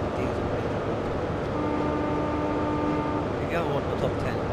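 A GWR HST diesel train runs in Train Sim World, giving a steady, continuous engine and rail rumble with a brief tonal hum partway through and faint higher squeals near the end.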